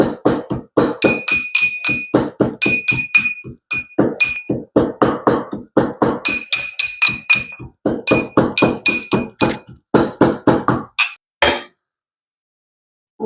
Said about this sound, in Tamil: சீரகம் மிளகு உள்ளி வந்து சேர்த்து குத்தி எடுப்போம்